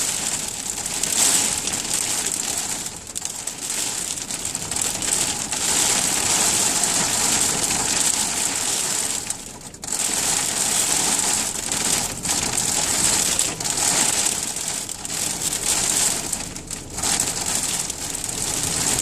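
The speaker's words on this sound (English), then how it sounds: "Before I got the chance to drive off, a hailstorm came on." Hail pelting a car during a winter storm, a dense, loud, unbroken patter drumming across the body and roof, with brief dips and surges in intensity and no voices.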